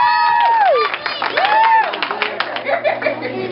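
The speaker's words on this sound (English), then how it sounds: "let's give him a round of applause." A talent show audience breaks into applause, with scattered clapping and cheering voices mixed in, loud and close for a few seconds.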